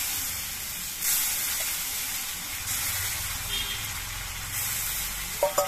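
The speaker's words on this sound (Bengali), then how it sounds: "সর্ষেটা ভাজা হয়ে যাওয়ার পরে এর মধ্যে পরিমাণ মতো হলুদের গুঁড়ো দিচ্ছি, আর আদা আর কাঁচা লঙ্কা একসঙ্গে বেটে রেখেছিলাম সেই বাটা মশলাটা দিচ্ছি।" Turmeric and a ground ginger and green chili paste fry in hot mustard oil with a steady hiss and sizzle, a few brief surges as the spices go in, and small clinks at the end.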